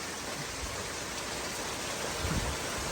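Heavy rain pours down hard in a stormy setting, a dense, steady hiss of drops striking a surface, with a few heavier splashes toward the end.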